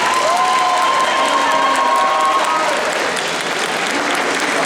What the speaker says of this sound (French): Donc on peut les applaudir, ces 80 bénévoles là